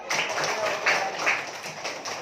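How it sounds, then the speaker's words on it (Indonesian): Classroom applause for a classmate: a short burst of many small hands clapping unevenly at moderate volume, with faint children's voices mixed in. "Tepuk tangan untuk teman kita."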